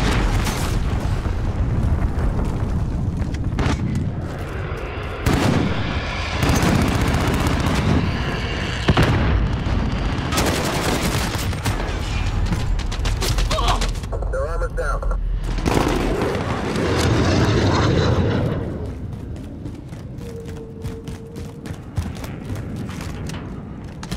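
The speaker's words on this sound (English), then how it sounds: "Enemy cruise missile incoming." Enemy cruise missile strike in Call of Duty Modern Warfare (2019) multiplayer: loud booming explosions and bursts of gunfire pound repeatedly over a sustained rumble, with voices heard in the mix.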